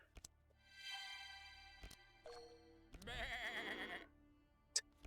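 Sheep bleating in a digital card-battle game, a single wavering bleat standing out clearly over quiet game music and small chimes, with a bright jingle near the end.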